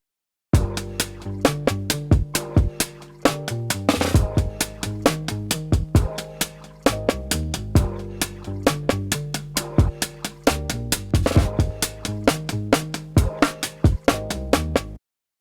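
A punchy drum break with valve compression loops steadily, with tight kicks, snares and crisp hi-hats in a driving rhythm, loud and up close with no voices.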